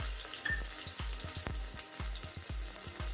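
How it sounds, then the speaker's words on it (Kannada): Chopped onions frying in hot oil with popping mustard seeds, a steady close sizzle punctuated by many quick crackling pops in irregular rhythm, with no talking. "ಸಾಸಿವೆ ಎಣ್ಣೆಯಲ್ಲಿ ಕಾದು ಸೌಂಡ್ ಮಾಡೋಷ್ಟರಲ್ಲಿ ಕಟ್ ಮಾಡ್ಕೊಂಡಿರುವ ಈರುಳ್ಳಿಯನ್ನು ಹಾಕ್ಕೊಂಡಿದ್ದೀನಿ"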